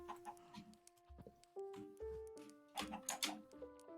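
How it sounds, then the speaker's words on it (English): In a video game, a chicken clucks and warbles in a series of short, close calls with rising and falling pitch, heard with no talk over it. "Hello, chicken."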